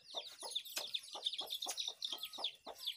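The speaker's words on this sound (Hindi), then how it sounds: "तो हम कहते हैं कि मुर्गी के बच्चे भी खोल देते हैं" Young chicks in a Kashmir yard peep and cluck in a rapid, continuous chatter as they are let out, close and lively with no voices.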